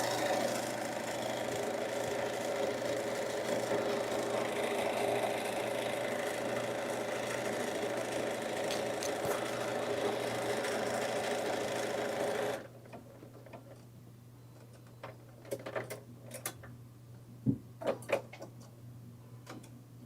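A dual feed sewing machine stitches a dense stitch through thick tote bag fabric, a steady close mechanical whir that runs for about twelve seconds, then stops and leaves a few quiet clicks and handling sounds.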